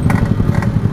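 A Yamaha RX King motorcycle with a loud open exhaust putters in a close, rough, pulsing two-stroke rhythm.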